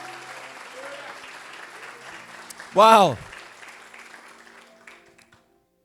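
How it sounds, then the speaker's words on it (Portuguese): A church congregation applauds and cheers loudly in one short, strong burst, rising out of a quieter, murmuring room and fading back down. A voice calls out during it. "Pode aplaudir mais forte o nome do Senhor."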